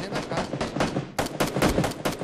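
Rapid bursts of gunfire in the battle royale game PUBG Battlegrounds, dense overlapping automatic shots in two loud clusters with a brief lull, close and alone.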